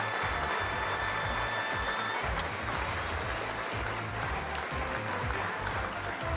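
Applause runs continuously as a dense, even wash of clapping, fairly loud and unbroken for several seconds.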